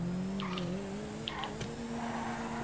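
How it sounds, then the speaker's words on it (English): A car engine in a racing video game hums at steady revs, its tone dipping and climbing slightly through gear changes, with faint brief high tones over the drone. "You gotta listen to the motor. Listen to the gears change."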